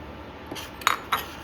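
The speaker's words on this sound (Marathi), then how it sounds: "पीठ टाकूया आपलं" Rice flour goes into a pan for modak dough, with a few soft utensil clinks and scrapes against the pan, close and quiet.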